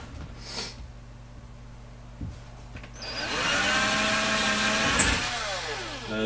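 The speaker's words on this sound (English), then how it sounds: "and I'm going to drill these holes." Power drill spinning up and drilling a hole during a PC upgrade, a sustained close whirring bore lasting several seconds with pitch shifting as the bit bites, preceded by quieter handling knocks.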